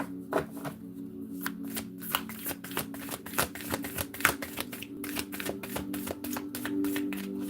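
Rapid riffling and snapping of tarot cards being shuffled by hand, a long run of crisp clicks and flutters close up, with a faint hum underneath.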